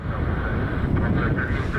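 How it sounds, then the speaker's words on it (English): United Airbus A321neo airliner taking off on runway 24 at Southwest Florida International Airport, heard as a steady, loud low jet roar with wind buffeting the microphone. "United A321neo taking off on runway 24 here at RSW, Southwest Florida International Airport"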